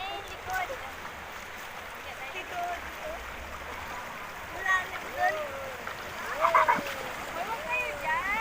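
Cold river water splashes in Manguyang, Gloria, Oriental Mindoro, with children's excited voices and shouts scattered throughout, growing busier toward the end.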